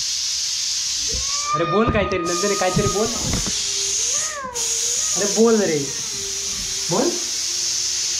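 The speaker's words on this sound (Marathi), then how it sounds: "चल 3 कुकर शिट्टी झाली, शिजली भाजी" A pressure cooker that has just given three whistles keeps hissing out steam in a steady, bright stream under a voice talking over it.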